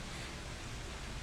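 A household electric fan runs steadily indoors, giving a soft, even broadband whoosh that stays constant and fairly quiet throughout, with no other sounds standing out.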